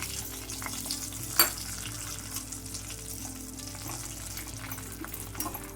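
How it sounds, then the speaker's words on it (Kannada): Coconut pieces fry steadily in a pan for sweet pongal, a continuous close sizzle with occasional stirring scrapes and one sharp clink. "ಎಲ್ಲ ಒಂಥರ ಕಂದು ಬಣ್ಣ ಬರಬೇಕು ಅಷ್ಟವರೆಗೂ ಹುರ್ಕೊಳ್ಳೋಣ"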